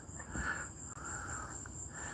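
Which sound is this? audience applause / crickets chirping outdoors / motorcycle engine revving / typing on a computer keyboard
crickets chirping outdoors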